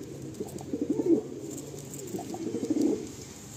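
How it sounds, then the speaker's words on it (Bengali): Madrasi pigeons in a loft coo in two low throaty bursts with a soft rustle of movement between, close and moderately loud. "দেখুন পায়রাগুলো খুব অ্যাক্টিভ রয়েছে, আর একটু খুব ছটফটে পায়রাগুলো"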